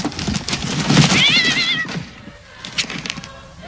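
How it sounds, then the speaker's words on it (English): A cat meows from inside a wrapped gift box, a single drawn-out wavering meow in the middle, with clattering and rustling around it. "This box is meowing."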